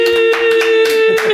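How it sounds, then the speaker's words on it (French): A crowd claps together in a steady burst of applause, with a sustained tone ringing underneath throughout. "Est-ce qu'on peut faire un tonnerre d'applaudissements pour Julie?"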